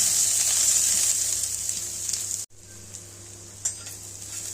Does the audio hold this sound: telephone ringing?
no